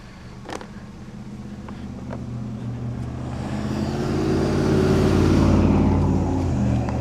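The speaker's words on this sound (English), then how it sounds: "Did you hear that engine of that truck going by?" A truck engine drives by outdoors on a street where trash is put out for picking, its rumble rising and swelling to a loud, broad roar near the end before easing slightly, with no talk.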